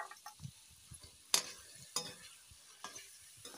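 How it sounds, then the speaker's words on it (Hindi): Tomatoes frying in a pan for green pea ghugni, with soft scraping stirs and a couple of sharp utensil clacks over a faint, quiet sizzle. "टमाटर को अच्छा तरह से भूज लेंगे।"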